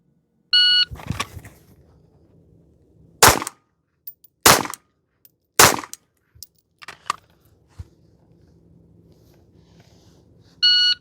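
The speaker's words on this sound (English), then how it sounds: "we will draw, put 3 rounds on target in 10 seconds" Pistol shots at a target during a Missouri handgun qualification stage, three sharp loud reports spaced about a second apart, a few fainter clicks after, with short electronic timer beeps at the start and end.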